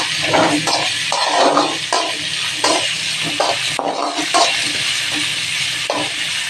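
Onion and ginger frying in hot oil in a home kitchen pan, a steady close sizzle with intermittent scraping stirs and faint utensil clinks throughout.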